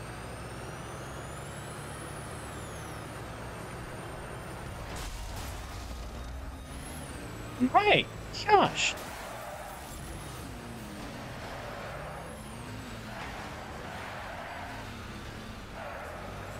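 A box truck's air brakes hiss in a short double burst in the video game Car Crushers 2, over a steady low rumble of engine and game noise, with a brief spoken exclamation nearby.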